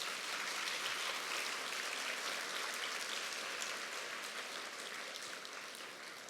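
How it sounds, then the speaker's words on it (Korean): Audience at a Christian media conference applauding for the pastors in attendance, a steady, dense wash of clapping that holds evenly throughout and eases slightly toward the end, with no voices over it. "목사님들 박수 쳐드렸으니까"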